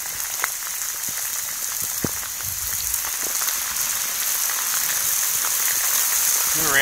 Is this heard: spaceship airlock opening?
no